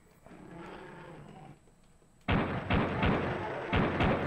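Gunshots in a video game: after a quieter stretch, a loud burst of heavy firing erupts and repeats in a couple of strong blasts, close and dominant.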